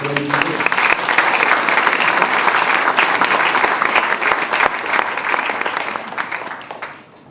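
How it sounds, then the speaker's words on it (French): Sustained applause fills a hall at a municipal New Year's greetings ceremony in La Colle, dense clapping from many hands, loud and steady for several seconds before fading out. "On peut les applaudir, ceux qui financent."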